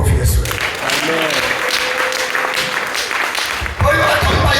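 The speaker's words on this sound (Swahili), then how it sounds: "Hebu piga makofi Yesu." A church congregation bursts into loud, sustained applause during a Sunday service, dense clapping filling the whole stretch with a brief dip before it swells again.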